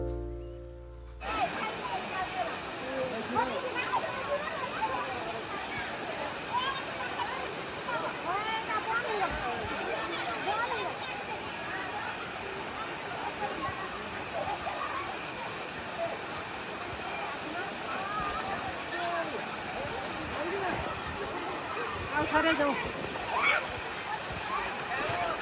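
Harishankar waterfall in Balangir, Odisha, rushing water pouring in a steady, loud broadband roar that continues unbroken throughout, with faint voices of people nearby mixed into the din.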